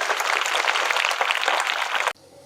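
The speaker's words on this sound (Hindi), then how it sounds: "एक बार जोरदार तालियां इन बच्चों के लिए" A crowd applauds schoolchildren at an Independence Day celebration at Krishna Public School in Raipur, a dense, steady wash of clapping that cuts off abruptly near the end.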